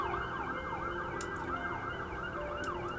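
A wailing ambulance siren sweeps up and down repeatedly, fairly faint and somewhat distant, with the hum of passing traffic underneath.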